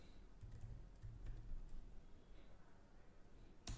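Password being typed on a computer keyboard: a run of light, irregular key clicks over a low background hum, fairly close, no voices.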